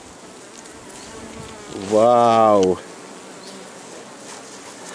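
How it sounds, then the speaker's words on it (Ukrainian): Honeybees packed inside a freshly opened log hive give off a dense, continuous buzzing hum, close and steady throughout, with one short excited exclamation from a person partway through. "Колода битком набита бджолою."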